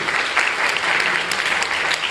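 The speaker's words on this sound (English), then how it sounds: "Give him a round of applause, please." Debate audience applauding a speaker from the SUTD proposition team at an inter-varsity debate, a steady close wash of many hands clapping that fills the short moment with no pause.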